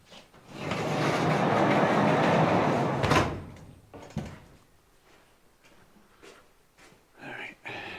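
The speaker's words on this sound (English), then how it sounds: "Okay, I'm going to shut this door." A door being slid and shut indoors: a long rolling rumble for about three seconds ending in a sharp thud, followed by smaller knocks and shuffling, with a voice briefly near the end.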